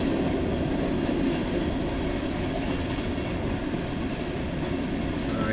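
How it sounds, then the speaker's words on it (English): A large CSX freight train rolls past close by, a loud, continuous rumble of cars and wheels on rails that holds steady throughout without voices. "This is an exceptionally large train."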